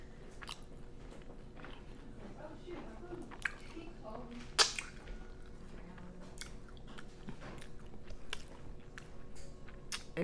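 Close, soft chewing and biting on a banana caramel spring roll, with moist crunches and squishes and one sharper bite, between quiet murmurs of a person speaking.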